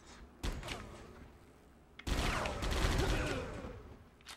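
Gunfire in the video game Die Hard: Vendetta: a short, quiet burst of shots followed after a pause by a longer, denser volley of rapid fire, heard alone without talk.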